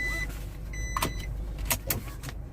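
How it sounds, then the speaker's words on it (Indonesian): Seat belt reminder chime in a Nissan Terra SUV cabin: a few short bright tones at moderate level over steady road and engine hum, with brief clicks and rustles in between. "Nih, pengingat seat belt."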